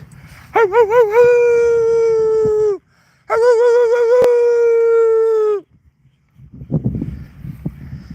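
A man imitates a wolf howl to call dogs outdoors: two long, loud, sustained howls with a wavering start, separated by a brief pause, followed by faint rustling and movement.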